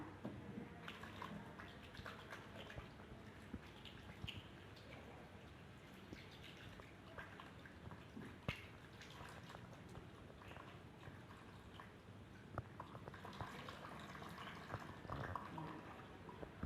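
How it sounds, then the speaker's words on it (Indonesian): Hands being washed under running water during a clinical internal examination routine, a steady broadband splashing and trickling flow that lasts throughout at a moderate, even level with no talking. "setelah kita selesai cuci tangan"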